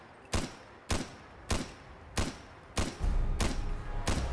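Gunfire in Fallout 4: seven loud, sharp shots fired one by one at a steady, roughly half-second rhythm, each with a short booming tail, the last few blurring into continuous rumble.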